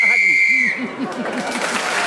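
A referee's whistle on a radio panel game show gives one long shrill blast that cuts off a speaking panelist, then applause and cheering from the studio audience follow.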